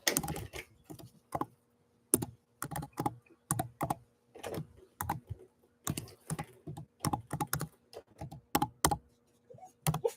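An email address is typed on a keyboard: quiet, close key clicks come in irregular bursts separated by brief pauses, with no talk.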